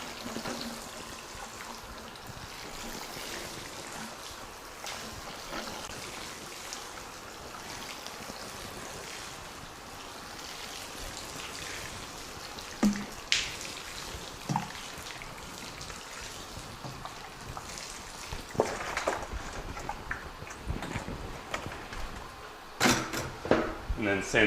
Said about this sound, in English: So now that you got your nice flat level beds, you want to water.